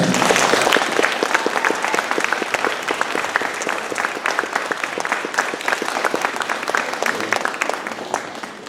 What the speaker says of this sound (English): We have a round of applause for them